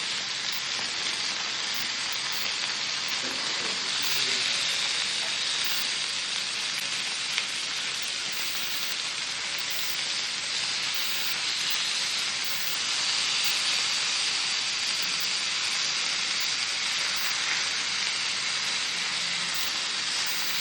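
Chicken breast sizzles steadily on a grill, a dense, continuous hiss like rain on a hot surface, loud and unbroken throughout with no talking.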